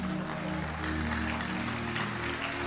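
A church congregation applauds, a dense, steady wash of clapping from a large crowd, sustained over a low hum.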